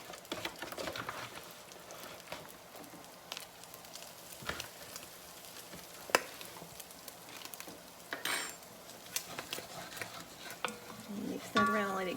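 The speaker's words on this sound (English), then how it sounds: "Mix that around and let it cook and get rid of that raw flour taste." A utensil scrapes and stirs flour into browned sausage in a pan, soft repeated scraping and light clinks over a faint sizzle, with a louder metallic rattle near the end.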